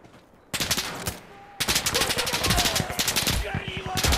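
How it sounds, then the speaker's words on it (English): Automatic gunfire in the shooter game Insurgency Sandstorm: rapid machine-gun bursts crackle close and loud, starting after a brief quiet, then several volleys follow in quick succession with barely a pause between them. "I was just getting shot from every direction"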